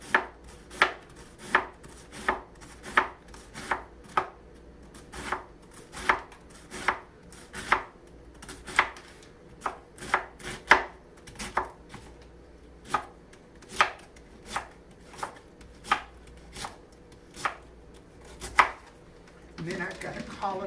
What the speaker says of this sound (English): I'm going to continue to do the same thing until I julienne the entire cabbage